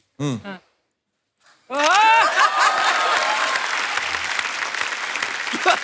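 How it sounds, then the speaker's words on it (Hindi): Studio audience at a Hindi comedy show bursts into loud, sustained applause after a brief voice, the clapping holding steady for several seconds. "ये तो प्यारे लोग हैं, हर बात पे वैसे ही ताली बजाते हैं"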